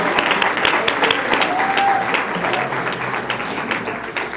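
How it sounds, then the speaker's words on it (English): Warm, sustained audience applause for students at a school district awards event, steady and full throughout, with some crowd voices and cheering mixed underneath. "let's give one last great round of applause to all of our wonderful students."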